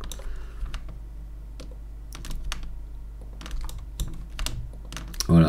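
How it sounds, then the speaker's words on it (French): Keys clack on a computer keyboard while modelling furniture in 3D software, a run of sharp, close clicks at an irregular pace with short pauses and a brief louder tap at the end. "j'appuie sur majuscule contrôle en même temps"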